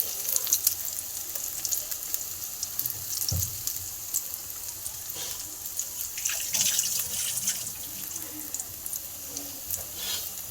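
Coriander leaves dipped in gram flour batter sizzle softly in hot oil as pakoras fry, a faint continuous crackle with occasional small pops and clinks, no voices.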